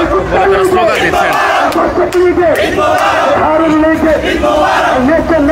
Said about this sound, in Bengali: এই মুহূর্তে ঈদ মুবারক বলে তারা স্লোগান দিচ্ছেন